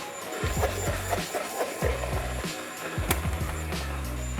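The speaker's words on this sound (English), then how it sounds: "So now that this is all blended, give it one last whiz" A blender whizzes a tea-infused soup thickened with bread and vinegar, its motor droning loud and close in repeated pulsing surges.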